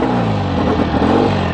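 A 1965 BSA 650 Thunderbolt British motorcycle engine fires up after a kick start and settles into a loud, steady, throbbing idle up close.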